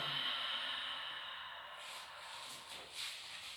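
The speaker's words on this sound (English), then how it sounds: "Exhale down." A long, soft breathy exhale during a Thera-Band breathing workout, an airy hiss that fades out gradually, close and quiet with no talking.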